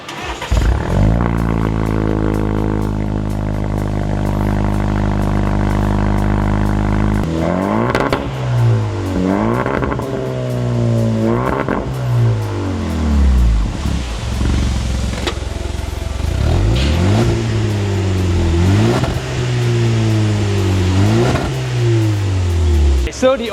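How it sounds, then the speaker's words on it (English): A Land Rover Defender with a full titanium catback exhaust idles with a deep, steady drone, then is revved again and again, each rev a rising and falling roar. It is loud and close throughout. "a full titanium catback system for the Defender"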